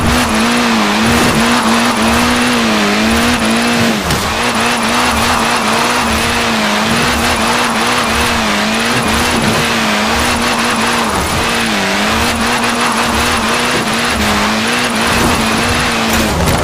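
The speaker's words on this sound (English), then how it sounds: "Now let's really shred those tyres" A car drifting in Forza Horizon 4 gives a loud, continuous roaring engine with rising and falling revs, layered with steady high tyre squeal that lasts throughout the stretch.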